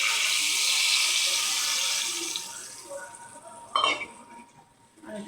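Water poured from a bucket into a pan of spiced masala while cooking chhanar dalna, a loud splashing rush for about two seconds, then quieter stirring clinks and a light clatter of utensils.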